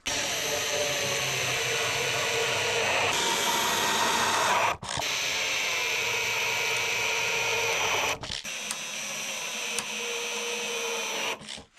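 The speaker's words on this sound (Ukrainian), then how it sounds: "Прикручую такі кріплення, врізані з профтруби 20 х 30 з двома отворами" A power screwdriver drives screws through brackets cut from 20x30 steel profile tube, a loud continuous high whir in three long runs separated by brief pauses.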